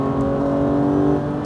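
A Porsche GT3 RS accelerates on the Issoire race circuit, its engine pulling hard in a steady, loud, high-revving drone heard from inside the car.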